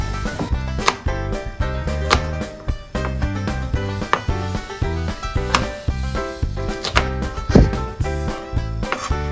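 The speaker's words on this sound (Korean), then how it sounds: "나 한 팔로 칼질해" A knife chops zucchini and onion on a cutting board, one-handed, in close, crisp, steady strikes with a few sharper knocks mixed in.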